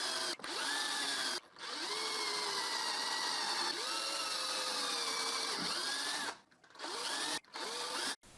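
A power drill bores guide holes through plywood, its motor whine rising and dipping in pitch as the bit loads, with a few short pauses and restarts near the end; close, loud and without speech.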